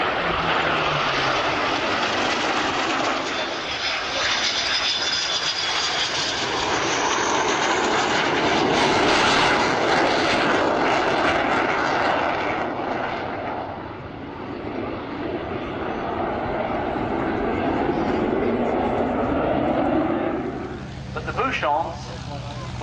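A propeller-driven warbird with undercarriage and flaps down passes slowly and low over the hedge at the 2011 Shoreham Airshow. The loud engine drone swells and fades over twenty seconds, with commentary heard over the public address throughout.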